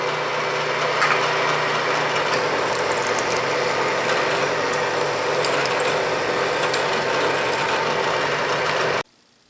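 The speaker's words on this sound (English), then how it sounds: "And now drill 1/4." A Bridgeport mill runs steadily while a 1/4 inch drill bores a hole, a continuous mechanical whir with faint gear chatter and clicks, close, stopping abruptly near the end.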